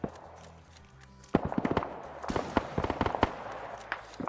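In a video game, after a quiet moment, a burst of sharp gunshots cracks out in irregular clusters near apartment complexes, some close and loud, others more distant.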